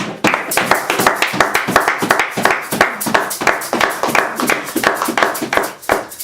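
A church congregation clapping in rhythm during a French-language worship service, steady loud repeated claps from many hands filling the room, with no clear talk over them.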